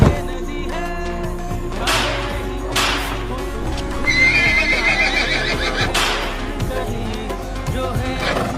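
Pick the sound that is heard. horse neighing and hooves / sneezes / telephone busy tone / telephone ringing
horse neighing and hooves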